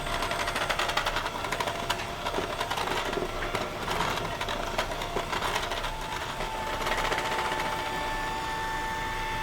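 An electric mixer beats sponge cake batter in a steady, continuous whir with a fine rattling texture, loud and unbroken throughout with no talking.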